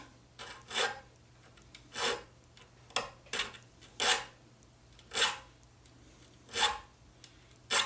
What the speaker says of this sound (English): I just pulled a push file.